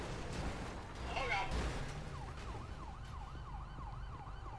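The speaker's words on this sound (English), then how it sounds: "I hear sirens." A wailing emergency siren rises and falls steadily over constant road rumble, moderately distant, with a voice briefly audible early on.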